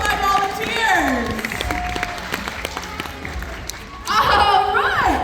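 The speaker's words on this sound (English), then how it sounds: "Round of applause for both of my volunteers." An audience at a science museum explosion show claps for two volunteers, a sustained burst of applause with cheering as a presenter keeps talking over it, then a louder swell of clapping near the end.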